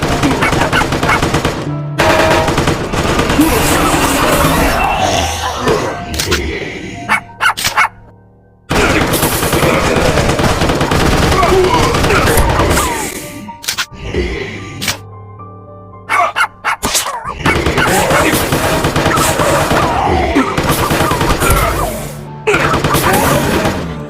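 Rapid bursts of gunfire at zombies in the game Zombie Frontier 4, loud and dense, with short pauses between volleys and chaotic crashes mixed in.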